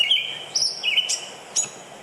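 Two gray catbirds sparring over a kernel of corn on a Rochester trail, giving a run of squeaky, slurred high chirps and sharp mewing notes, close and fairly clear over faint background hiss.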